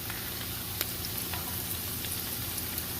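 Salmon patties fry in a non-stick pan with a steady, dense sizzle, close and even throughout, with a few faint crackles and no talking.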